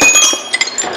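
Metal hand tools such as hammers, pry bars and a cat's paw clink together as a workshop drawer is pulled open, a cluster of light bright metallic taps and jingles close by.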